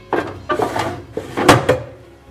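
Two drawers supplied with a professional soldering workbench machine slide and knock as they are opened and shut, a few close woody thuds and rattles in quick succession, with no talking.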